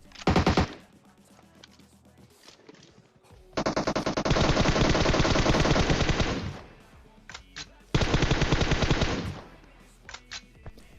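Gunfire in a shooter video game sounds as three loud automatic bursts, a short one at the start, a long sustained one in the middle and another near the end, separated by quieter gaps.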